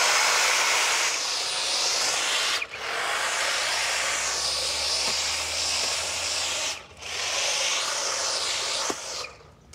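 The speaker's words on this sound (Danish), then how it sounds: "du skal klippe den der hæk der. Den er lidt for høj." An electric hedge trimmer cuts a tall hedge, its loud, close motor whining in long continuous runs broken by two brief pauses near the middle and end, with no talking.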